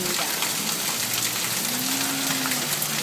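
Hail and heavy rain pour down in Apizaco, a dense, loud, continuous hiss and patter of falling ice and water on surfaces, steady throughout with no break.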